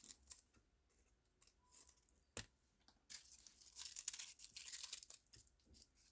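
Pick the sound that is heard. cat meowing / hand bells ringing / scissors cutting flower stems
scissors cutting flower stems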